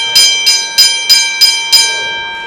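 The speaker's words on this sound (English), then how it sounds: "Ring the bell." Wrestling ring bell rung at an independent wrestling show after a double count-out, six sharp metallic dings in quick steady succession, each ringing briefly before the next, loud and close with no talk over them.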